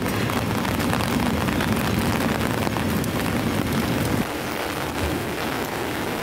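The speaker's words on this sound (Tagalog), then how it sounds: "Yan ang ulan." Heavy rain pours steadily under a dark, thundery sky, a dense, loud hiss with a deeper low rumble that eases slightly toward the end.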